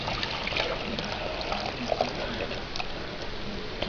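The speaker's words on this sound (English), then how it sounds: "I'm going to pour my water in here" Water poured into a slow cooker crock pot for spicy black-eyed peas, a steady soft splashing trickle that continues evenly throughout at low volume.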